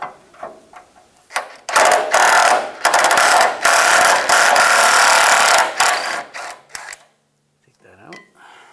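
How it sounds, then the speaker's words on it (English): A 12mm socket on a tool works a fuel pump bolt loose on a Toyota 4Runner, producing a loud, close, continuous whirring rattle of several seconds with a few short bursts before and after. "This first one, we're going to use a 12mm socket."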